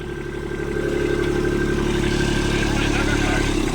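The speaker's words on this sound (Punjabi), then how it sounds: "ਧੂੜਾ ਪੜਦਾ ਆਉਂਦਾ ਗੁਰਵਿੰਦਰ ਸਿੰਘ ਸਰਪੰਚ ਟਰੈਕਟਰ ਤੇ ਆ ਗਿਆ" A loud, steady tractor engine rumbles close by on a dusty village track, holding a low drone that builds slightly as it approaches, with faint voices in the background.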